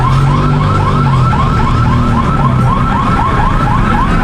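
An emergency siren wails in a city street at night, a loud, close, repeating up-and-down cycle running steadily over low traffic rumble.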